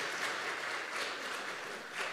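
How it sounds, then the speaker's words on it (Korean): Applause fills a Christmas Day family worship service at church, a steady, moderately soft round of clapping from the congregation lasting a couple of seconds, with no speech over it. "다시 한번 우리 격려 박수 하겠습니다"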